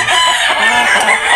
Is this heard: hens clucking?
yes